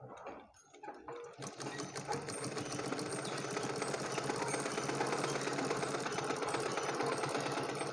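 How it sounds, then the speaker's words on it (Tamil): A sewing machine stitches a blouse, starting after a few soft handling sounds and then running at a fast, even, mechanical chatter, close and loud, with no break to the end. "நான் ஸ்டிச் பண்ணி காட்டுறேன்."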